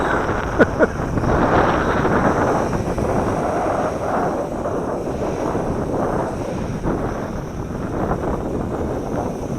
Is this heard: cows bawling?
no